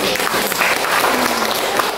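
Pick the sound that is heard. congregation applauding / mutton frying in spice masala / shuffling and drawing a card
congregation applauding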